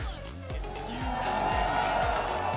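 Esports arena crowd cheering for G2 at a Red Bull Home event, a swelling roar of voices rising from moderate to loud and holding, with a rhythmic thumping underneath.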